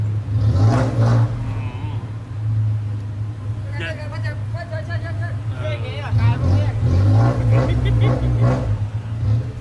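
Car with a loud aftermarket exhaust revving and pulling away close by, a deep droning rumble that swells again near the end, with voices chattering over it.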